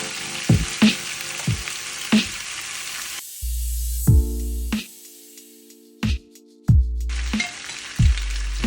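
Chicken pieces and garlic frying in a single pot, a steady sizzle broken by sharp clanks of a utensil stirring against the pot, with a short quieter stretch midway.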